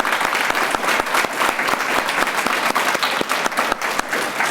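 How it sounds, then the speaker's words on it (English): Steady, dense applause from an awards-ceremony audience at the Denver Healthy Communities Awards, many hands clapping at once and sustained at a fairly loud level throughout, with no talking over it. "So give yourselves a round of applause."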